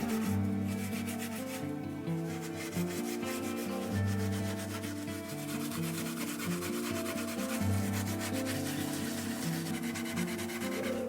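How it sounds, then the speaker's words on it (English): Wire wool scrubbed vigorously over a wooden chair to lift off paint stripper, steady rhythmic rasping strokes, close and continuous with no talk. "I didn't want to leave any of the paint stripper on overnight, so I went in again with the wire wool."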